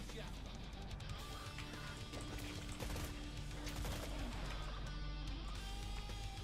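Rifle gunfire in the Killing Floor 3 beta, a dense stream of shots and impacts mixed with game noise, moderately loud and steady, with a voice talking over it.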